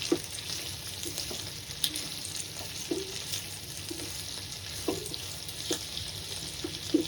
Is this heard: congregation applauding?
no